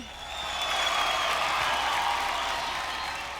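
An audience applauds to welcome Rama Rajamouli on stage at a crowded event, a steady wash of clapping and crowd noise that swells and then eases slightly.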